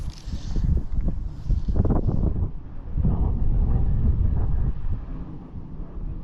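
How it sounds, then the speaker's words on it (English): Wind buffeting an outdoor microphone during fly fishing for bluegills, a steady low rumble with gusty surges throughout, loud and close, no voices. "The wind is not helping."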